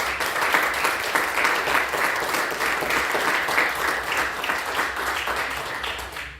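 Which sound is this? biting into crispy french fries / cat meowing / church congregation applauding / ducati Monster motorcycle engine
church congregation applauding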